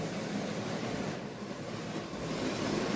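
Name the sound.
model railway train running on track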